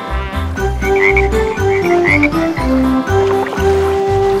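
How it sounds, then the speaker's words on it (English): Frogs croak in a rapid, rhythmic series of deep, throaty calls, loud and close, repeating steadily with no talking over them. "Two little speckled frogs sat on a speckled log"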